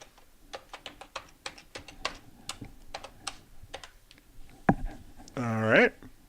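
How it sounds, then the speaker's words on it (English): Keystrokes on a computer keyboard while a password is entered at a command prompt, a steady run of separate clicks for several seconds, followed by a short louder burst near the end. "I type in my password."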